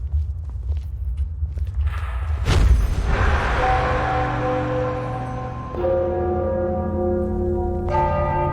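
Large bells ring out in a fantasy role-playing game world, several deep, resonant strikes with long shimmering decays that overlap, loud and close, with a fresh strike renewing the ringing near the end.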